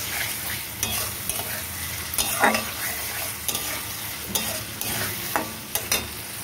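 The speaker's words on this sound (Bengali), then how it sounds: "এবার আমি মাছের কষ্টাগুলো দিয়ে দেবো। দিয়ে মশলার সাথে ভালো করে কষিয়ে নেব।" Fish pieces are stir-fried with spice paste in a pan, with a steady sizzle broken by repeated scraping stirs at an irregular rhythm, close and fairly loud with no talking.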